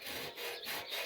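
Surface corrosion being rubbed off the chassis rail of a 1971 Range Rover, a close, loud rasping scrape in three or four rhythmic back-and-forth strokes.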